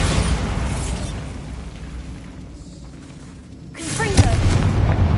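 A Bombarda blasting spell going off in the Hogwarts Legacy video game inside a closed mine, a loud booming burst that rumbles and fades, then a second sharp blast near the end over a constant game backdrop.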